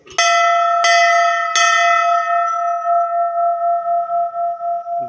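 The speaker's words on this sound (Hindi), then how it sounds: "घंटा का आवाज़ बहुत ज़ोर से गूंजता है यहाँ पे भाई" A metal bell inside the Ikkiso Mahadev Shiva temple in Ranchi is struck three times in quick succession. It rings loud and close, then hums on with a long, pulsing, echoing decay.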